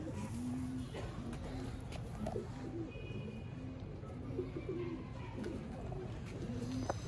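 Dubai Teddy pigeons kept at a loft with breeding pairs for sale, cooing in soft repeated low calls amid steady background noise and faint voices.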